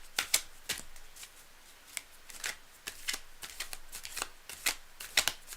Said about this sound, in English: One last little mini shuffle, Gregory, and we're in business